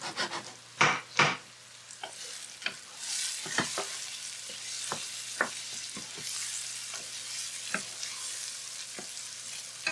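Garlic, crimini mushrooms and pimento olives cooking in butter in a pan, a soft steady sizzle throughout with a few loud utensil knocks near the start and light scraping clicks scattered after, no talking.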